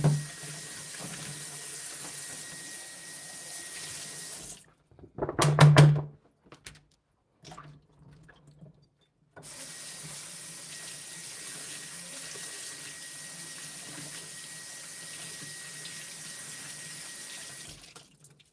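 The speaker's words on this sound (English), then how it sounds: "Let me wash these veggies." Kitchen tap water running into a sink while vegetables are washed, a steady splashing stream that stops for a few seconds with a brief louder gush and some clatter, then runs steadily again until the end.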